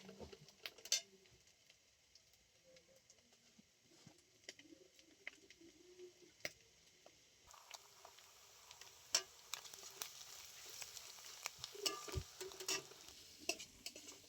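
Onion, ginger, garlic and turmeric fry quietly in a pan, a faint steady sizzle broken by scattered sharp clicks of a spoon stirring, with light birdsong in the background.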